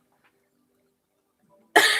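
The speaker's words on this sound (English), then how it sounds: "You hear she's coughing?" Near silence with faint murmurs, then a woman's sudden loud, harsh cough bursts out near the end.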